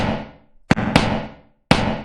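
A few sharp hits ring out with a bright, metallic, reverberant tail, three strikes spaced irregularly with fading decay between.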